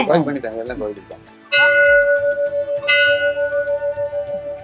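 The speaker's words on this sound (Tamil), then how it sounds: "கோயில் மணி தானே?" A temple bell is struck twice, each ring loud and sustained with a long shimmering decay, after a brief stretch of talk at the start.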